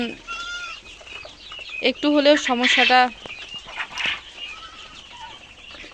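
Bursts of high, chirpy calls from a group of quails, close by, with a person speaking briefly underneath.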